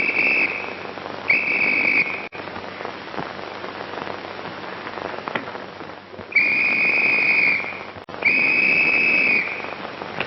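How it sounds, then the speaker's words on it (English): A shrill whistle sounds in several long blasts, spaced apart, over steady rain pattering on a surface. "was you blowing a whistle?"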